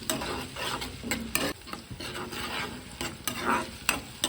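Onion and tomato fry in a pan with hing, stirred with repeated scraping strokes over a steady close sizzle; no one talks.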